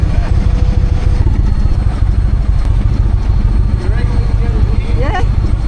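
A BMW engine idles in a vehicle queue at a container port, a steady low rumble close by with a few brief squeaks and faint background noise.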